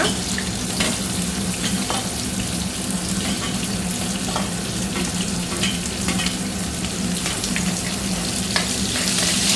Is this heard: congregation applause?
no